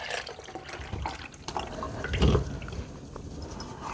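Cherries drained through a small kitchen sieve as liquid is poured into the middle, a steady trickling splash with a brief louder gush partway through, close by and without talk.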